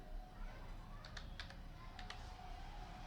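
A handful of light clicking keystrokes as a search query is typed on a computer keyboard, quiet and close in a few short bursts over a low room hum, without speech.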